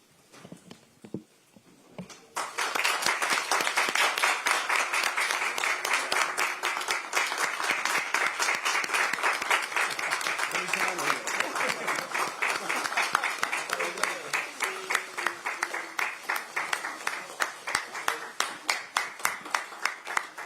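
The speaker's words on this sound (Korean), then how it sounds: "모두 자리에서 일어나 큰 박수로 맞이해 주시기 바랍니다" A standing crowd at a party leadership gathering in Korea claps loudly and continuously to welcome presidential candidate Lee Jae-myung as he enters, dense sustained applause after a brief quiet start, with a faint voice underneath.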